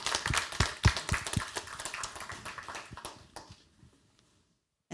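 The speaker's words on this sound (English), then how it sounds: "we'll give you a big hand of applause" Audience applause at an applied AI lunch talk, a burst of scattered clapping that is fairly faint and thins out over about three seconds, fading to near silence.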